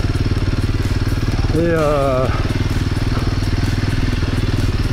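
Trial motorcycle engine running steadily over bumps at a Breton trial event, a loud continuous buzz with throttle swells; someone speaks briefly over it midway.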